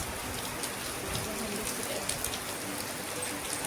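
Steady rain falls all around, a dense, even patter of drops on surfaces, close and continuous without breaks or thunder.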